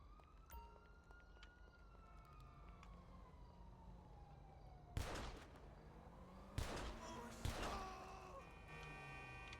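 A police car siren wails in the video game GTA 5 Online, its tone sliding slowly downward at a moderate distance, broken by several sharp gunshot-like bangs in the second half.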